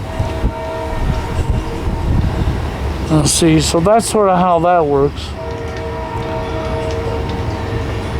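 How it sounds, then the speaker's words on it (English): A train passes with its horn sounding in a series of wavering, bending blasts for about two seconds amid rolling rail rumble, while someone talks over it in the foreground. "he will go in between one section of train track and the other section of train track because it turned"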